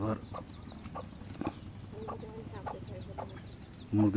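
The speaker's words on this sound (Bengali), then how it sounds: "মুরগি আসতেছে" Chickens cluck softly outdoors, a few short scattered clucks at moderate distance, with someone talking quietly now and then.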